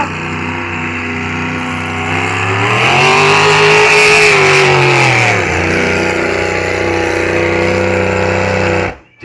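A drag racing car with a stroker engine makes its run at a night event on the prairies, a loud, continuous engine roar climbing in pitch, holding near the top, then dipping and pulling again before cutting off abruptly at the end.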